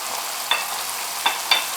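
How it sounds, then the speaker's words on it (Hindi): Spices with garam masala and chaat masala frying in a pan, a continuous close hiss of sizzling oil with a few brief clinks from stirring. "अब ये मसाले भून रहे हैं।"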